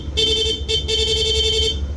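A Yamaha NMAX V2 motorcycle horn blares in rapid mode: a short blast, a brief break, then a long sustained honk with a quick stutter, loud and close.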